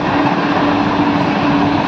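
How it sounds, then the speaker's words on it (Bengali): A toy train runs inside a Saraswati Puja pandal, producing a loud, continuous mechanical rumble and whirring hum with a steady tone, no voices over it. "এই যে ট্রেন ট্রেন চলছে"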